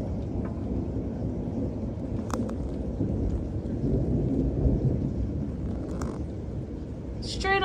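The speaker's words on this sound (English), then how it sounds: "Straight up thunderstorm." Thunderstorm at home with a steady wash of rain and low rumbling thunder throughout, a few sharp cracks standing out, heard continuously at moderate level.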